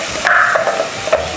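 Spiced sausage frying in a pan and being stirred, with a spoon scraping in short strokes over a steady sizzle, close and loud, with no talk.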